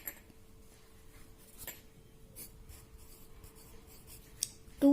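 A pen writes an answer on paper in a steady, quiet scratching that runs nearly the whole time, with a few faint rubs and a brief louder knock at the end.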